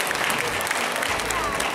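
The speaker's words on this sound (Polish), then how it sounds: "Duże brawa." A crowd at a charity auction claps steadily and loudly for the full stretch, a dense wash of applause with no pauses.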